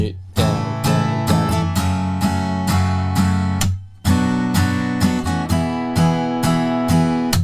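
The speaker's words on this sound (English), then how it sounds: "And in total, the bridge will sound like this." Guitar strumming the bridge rhythm of a song, a steady pattern of down strokes with palm-muted chops, loud and close, pausing briefly before the chords resume.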